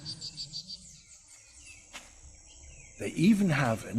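A frog calls almost nonstop to hold its territory, giving a quick run of high, repeated chirping notes that soften and trail off before a voice starts talking over the last second.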